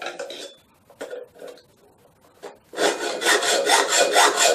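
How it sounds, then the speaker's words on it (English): A hand saw cutting a metal bracket, first in a few short rasping strokes with gaps, then settling into a steady, rhythmic back-and-forth sawing that grows louder and continuous. "Always try and use a nice steady sawing action"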